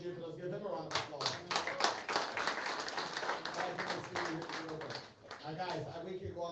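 A room at a state representative campaign event applauds the undersheriff, with distinct claps from a smaller crowd, uneven and close, and voices talking over the clapping.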